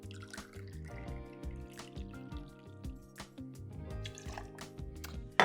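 Fresh squeezed orange juice is poured into a measure or glass, making a quiet, close trickling and dribbling liquid sound with small drips, and there is a louder clink at the very end.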